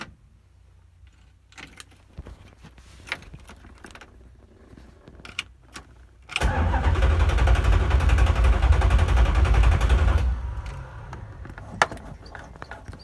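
A 1967 Dodge Coronet sits after clicks and door or key handling, then a loud low whirring crank runs steadily for about four seconds before stopping, followed by faint clunks.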